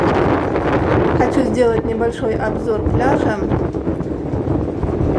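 Strong wind buffets the microphone on a beach in Turkey, a steady loud rumbling roar running under someone talking close by throughout.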